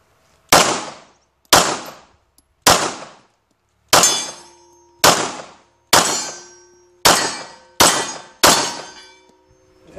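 Nine sharp pistol shots ring out at a shooting range, spaced roughly a second apart, each a loud crack with a ringing metallic decay, heard alone without talk.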